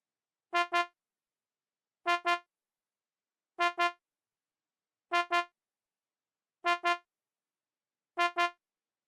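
Synth horn part in a soca beat: short bright brassy double stabs repeating at an even interval, six pairs in all, sounding alone against silence.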